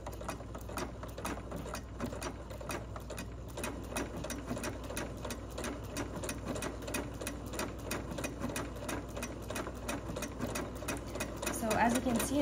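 A sewing machine stitches a seam in fabric on a steady, continuous run, its rapid needle clatter close and even throughout, with a slight rise near the end and no talking.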